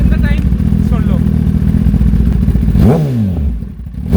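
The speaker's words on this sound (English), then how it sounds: "It's time to rev the beast." A 2020 Kawasaki Ninja ZX10R with a GP1R exhaust revs loud and close, its deep growling engine holding high, then blipping through a quick rise and fall before settling back.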